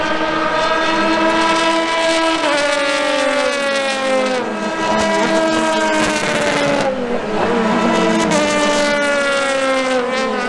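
IndyCar race cars scream past on the final lap at the St. Petersburg, Florida street circuit in 2019, loud high-pitched engines with shifting pitch as several cars pass in close succession, continuous and near.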